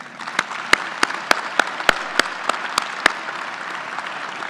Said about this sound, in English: ask you to join me in a round of applause for these two great Army families